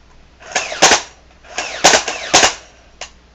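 A Nerf blaster fires about five sharp, loud snapping shots close by in an uneven rhythm, with each crack followed by a short whooshing tail.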